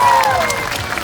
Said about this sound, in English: Please keep that applause going and help me welcome these two to the stage.